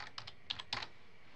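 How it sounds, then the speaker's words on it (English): A handful of quick, light keystrokes on a computer keyboard as a password is entered, close and fairly quiet, in a brief irregular burst with no talking. "So I'll go in here, put my password in."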